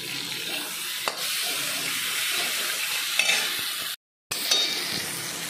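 A mustard and poppy seed paste fries in a pan while being stirred, giving a steady moderate sizzle with occasional scrapes and clinks and a brief dropout of sound near the end.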